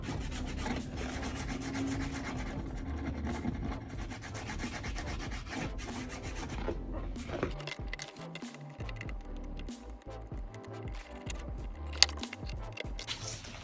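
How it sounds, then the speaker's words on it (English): Small scissors snipping and shaving stray floral foam on a DIY wedding seating chart, a soft steady rubbing and scraping close by, alone without speech. "you can clean or shave those off gently by using a small scissor"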